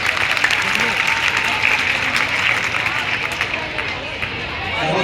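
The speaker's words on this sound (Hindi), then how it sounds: "तालियां एक बार फिर से अच्छे से।" Audience applause at a cultural event in Mahoba honouring national-level performers, sustained dense clapping filling the whole stretch, with crowd murmur and speech mixed in.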